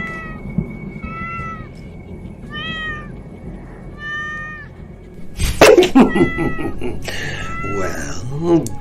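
Several clear cat meows, rising and falling in a horror audio drama, repeat at steady intervals, then a louder clatter and scuffle breaks out with further cries over rumbling background.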